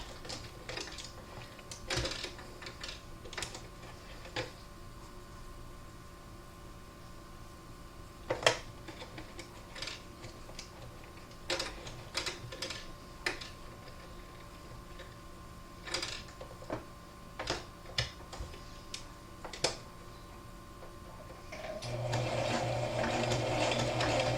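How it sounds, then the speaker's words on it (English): Scattered mechanical clicks and taps come from a sewing machine being set for a zigzag stitch on a cotton mask, followed near the end by a short, steady run of stitching. "I'm going to switch to a zigzag stitch."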